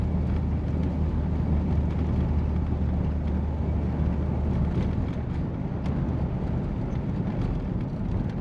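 A 1953 Oldsmobile Super 88 driving on the road, heard from inside as a steady, loud low rumble of engine and road noise with no break.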